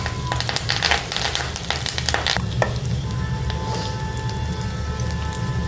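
Green chillies and curry leaves fry steadily in a hot pan for a Kerala inji puli, a continuous crackling sizzle with sharp pops and spits early on, close and fairly loud throughout, with no talking.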